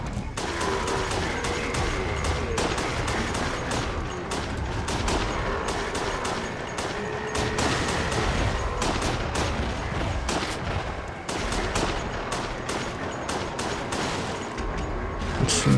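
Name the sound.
gunfire in a video game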